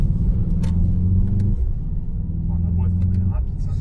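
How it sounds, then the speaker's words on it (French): A low, throaty Mercedes-AMG GT sedan engine rumble close by, steady with a slight rise and dip, and a few faint clicks over it. "au niveau du son de la voiture, elle est vachement étouffée"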